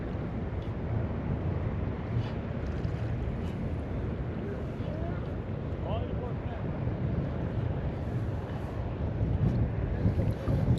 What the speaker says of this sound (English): It's getting a little windier.